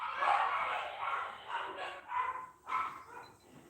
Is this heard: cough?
no